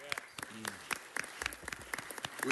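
Scattered, sparse clapping from an audience at a city council meeting, greeting introduced councilmen. The claps are light and uneven, with a faint voice or two mixed in.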